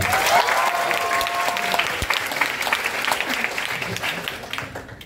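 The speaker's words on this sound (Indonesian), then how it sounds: "Tepuk tangan dulu buat Andi" A studio audience applauds steadily for a guest named Andi on an Indonesian talk show, a dense round of clapping that holds for several seconds before tapering off, with a voice briefly heard over it.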